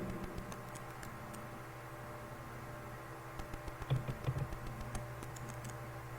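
Someone types on a computer keyboard in a quiet room, a scattered patter of soft key clicks over a low hum, with a brief faster burst near the middle.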